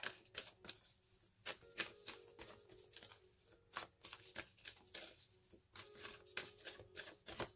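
A Divine Feminine Oracle card deck is shuffled in a steady run of crisp, repeated riffles and card slaps, close and clear over a soft background tone.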